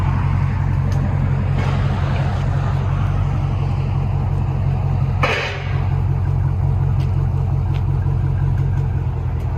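A Dodge Challenger Scat Pack with the 6.4L HEMI V8 and Dynatech mufflers idles with a deep, steady, loud exhaust rumble, close and continuous, with one brief dip in the middle.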